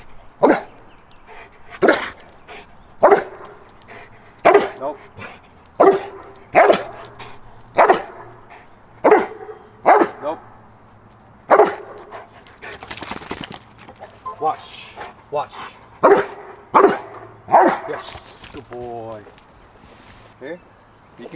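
A dog barks repeatedly in short, loud bursts at a steady pace during a bark-on-cue training session, with a person speaking between and over the barks.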